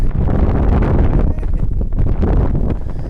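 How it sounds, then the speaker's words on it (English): Heavy wind buffets the microphone in a steady low roar while fishing for speckled trout, rumbling and gusting throughout without a break. "the conditions are just extremely windy"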